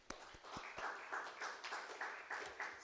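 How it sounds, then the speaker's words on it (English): Applause from a conference audience at a World IP Day session, fairly faint and thin, with individual claps standing out in a steady patter throughout. "Another round of applause for Faith."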